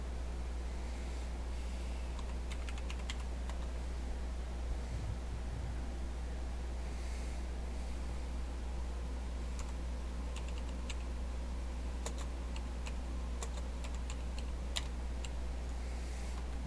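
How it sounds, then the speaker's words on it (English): Someone types on a computer keyboard, producing soft, irregular key clicks over a steady low background hum, with no talking. "So I didn't move before I started typing."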